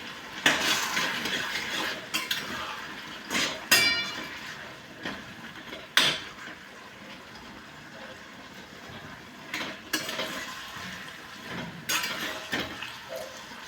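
A spoon stirring fenugreek tomato chutney in a pan, giving repeated scraping and clattering strokes with soft sizzling underneath, close and fairly steady over a long stretch with occasional louder knocks.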